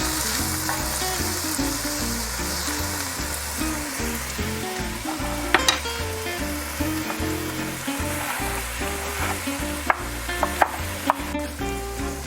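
White onions frying gently in a pan over lowered heat for a cabbage and minced meat dish: a steady, moderate sizzle with a few sharp clinks of a utensil, and no voices.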